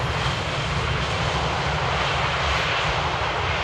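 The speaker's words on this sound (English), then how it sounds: "The last landing of the stream today. EasyJet making it looking easy." An EasyJet airliner lands at Amsterdam Airport in the rain, its jet engines giving a steady, loud, broadband roar that holds even throughout, with no voices over it.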